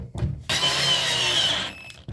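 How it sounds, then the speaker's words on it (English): A power drill runs screws into a wall while fixing a damaged towel rack, one steady, loud whir of about a second and a quarter after a short handling knock, with no talk. "And then run those screws in."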